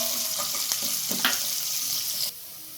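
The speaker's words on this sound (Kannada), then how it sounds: "ಇದನ್ನು ಒಂದು 2 ನಿಮಿಷ ಫ್ರೈ ಮಾಡ್ಕೊಳ್ಳೋಣ." Ingredients for a ridge gourd sambar fry in a pan with a broadband sizzle, a few soft clinks and stirring scrapes, then the sizzle drops abruptly to a quieter level near the end; no talking.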